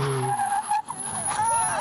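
A kart's tires skid under hard braking, a loud sustained screech with a shifting pitch that briefly drops out and then returns, heard close alongside engine noise.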